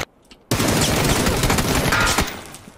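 A near, loud burst of automatic gunfire in PUBG breaks a short quiet and rattles on continuously for about two seconds before fading.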